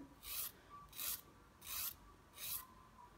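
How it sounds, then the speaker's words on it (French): A nail file rasps over an acrylic gel fingernail being shaped, four evenly spaced back-and-forth strokes, close and soft with no talking. "vous limez jusqu'à temps que vous ayez la forme que vous souhaitez ou que votre cliente souhaite"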